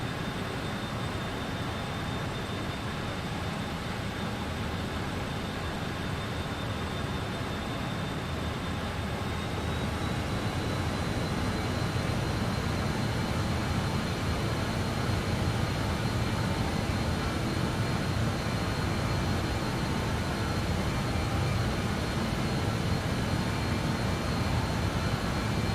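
Just Flight BAE 146 engines in Microsoft Flight Simulator 2020: a steady, broad jet roar and whine that holds constant throughout, shifting slightly in pitch partway, with no talk over it.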